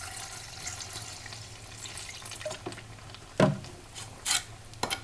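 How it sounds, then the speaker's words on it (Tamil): Water added to chicken gravy in a clay pot, a soft trickle and splashing with a few sharper clinks and sloshes toward the end, heard close with no talk. "சிக்கன் முழுகிற அளவு நம்ம தண்ணி சேர்த்துக்கலாம்."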